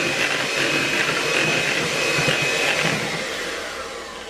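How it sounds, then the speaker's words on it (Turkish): An electric mixer whisks cream caramel cake batter, a loud continuous whirring motor drone that holds steady and eases slightly at the end, with no talk. "Çok az biraz daha çırpıyorum."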